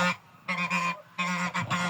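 Domestic farmyard geese honk nearby in a few loud, nasal bursts, two main calls with short gaps between them, clear and close with no talk over them.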